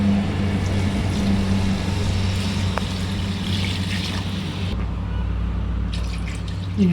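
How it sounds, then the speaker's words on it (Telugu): Water is poured into a pot for chicken pulao, one and a half measures to the rice, a steady close splashing stream that runs for several seconds and then stops, leaving quieter kitchen background. "ఇప్పుడు వాటర్ వేసుకోవాలి."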